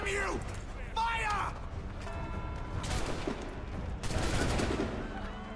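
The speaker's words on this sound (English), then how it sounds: "Right, they're shooting them." Gunfire in the Assassin's Creed 3 video game, a ragged volley of shots and crackling bursts mixed with game voices and shouting.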